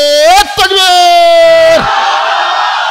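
A crowd at an evening Islamic religious gathering roars a loud, sustained takbir in unison, voices swelling together and ringing out for several seconds before the chant breaks into a broad, noisy cheer.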